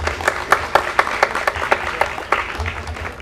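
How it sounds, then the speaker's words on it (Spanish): Small audience applause at a community talk on street dwellers in a city centre, scattered claps with sharper individual hits repeating over steady room noise, moderately close. "Bueno, un aplauso para Javier."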